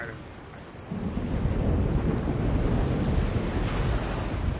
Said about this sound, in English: Storm front. West. Heading our way. Looks like a right old bugger, too.